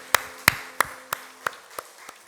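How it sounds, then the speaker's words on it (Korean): Sparse applause from a church congregation at a Korean service: seven separate, evenly spaced sharp claps roughly a third of a second apart, each fading slightly, with no talking. "우리 큰 박수로 감사를 표현하겠습니다"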